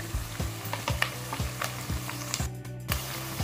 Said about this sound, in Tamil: வெங்காயம் வந்து பொன்னிறமாக நல்லா வதங்குற வரைக்கும் வெயிட் பண்ணணும்.